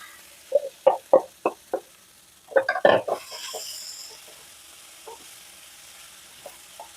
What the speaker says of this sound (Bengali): এবার দিয়ে দেবো ভেজে রাখা ভেন্ডি আর চিংড়িটা